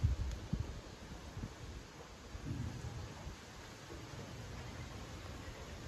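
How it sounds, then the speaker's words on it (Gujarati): Strong gusty wind roars at night as rain begins, with low rumbles and a broad rushing wash that swells and eases. A few heavier thumps come early on. No voices are heard. "એ ફૂલ પવન છે અને વરસાદની તૈયારી છે"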